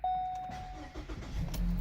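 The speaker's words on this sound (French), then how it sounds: "On démarre le véhicule." A short electronic chime, then a starter cranks briefly and a car engine catches and settles into a low, close idle.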